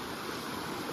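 Water pouring at a man-made waterfall near a temple in Kotdwar, Uttarakhand, a steady broadband rushing hiss, continuous and fairly close, with no voices.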